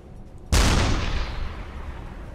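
A deck gun on a U-boat fires a high-explosive shell in the game UBOAT, one sudden loud boom with a long rumbling decay that fades over two seconds.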